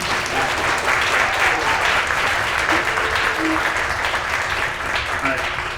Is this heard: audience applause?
yes